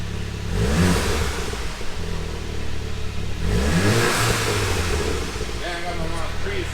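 A VW MK7.5 GTI with an APR catted downpipe revs twice, each rise climbing and falling back to a steady idle, heard up close and loud, with voices talking over parts of it.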